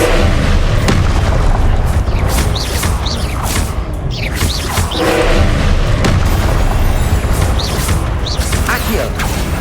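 A Confringo fire spell bursts in Hogwarts Legacy on Xbox Series X, with loud repeated booms and crackling blasts over a dense, continuous bed of combat noise.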